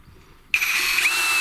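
Greenworks GD24DD60 brushless cordless impact drill-driver driving screws into a wooden beam; the motor kicks in abruptly with a close, loud, steady high whine that holds to the end, with no talking.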